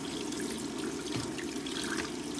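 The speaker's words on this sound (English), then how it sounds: "I boil the meat, and then I pour it off, strain it, and rinse it off." Tap water runs steadily into a kitchen sink over a strainer of boiled meat, a continuous close hissing splash with a few brief clatters and no talk.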